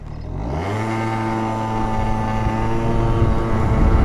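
A Peugeot Speedfight 4 scooter with a fuel-injected two-stroke engine revs up while riding, its buzzing, nasal drone climbing in pitch and then holding a steady, loud whine close by, with no talking.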